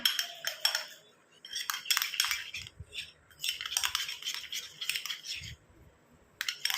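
Close, quiet metallic clinks and scrapes of a spoon stirring a thick paste in a bowl, coming in short intermittent bursts separated by brief pauses.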